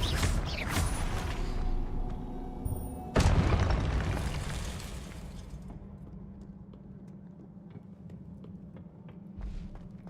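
Confringo fire spell blasts in the game Hogwarts Legacy, two loud booming explosions a few seconds apart, each decaying into a rumbling tail before quieter game ambience.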